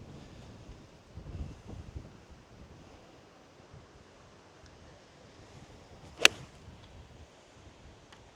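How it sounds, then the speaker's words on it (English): Strong wind buffets a microphone outdoors on a golf course, a low, rumbling roar with gusts swelling and easing, broken by one sharp click partway through. "Super windy out here today."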